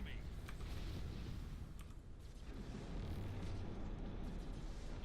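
A torpedo strike explodes against a ship in an Imperial Navy naval multiplayer game, a dense, rumbling roar of blast and crackle that fills the stretch and swells again near the end.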